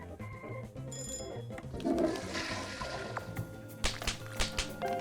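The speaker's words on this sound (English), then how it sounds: "nobody wants to flush the toilet at a restaurant because it's gross" A cartoon toilet flush from the restaurant game Cook, Serve, Delicious! whooshes up amid game chimes and clicks, followed by a few sharp knocks and taps, all moderately loud.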